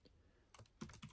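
A few quick keystrokes on a Freewrite Traveler portable writing device keyboard, heard as soft close clicks in a short burst in a quiet room.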